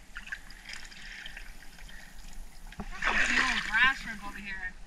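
A fishing net sweeps back and forth through shallow freshwater, making soft swishing and splashing water sounds that swell near the end while someone talks over them.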